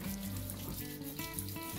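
Weaned piglets in a nursery pen suckling at a water nipple drinker, a steady close trickle and splash of running water with faint squeaky tones throughout.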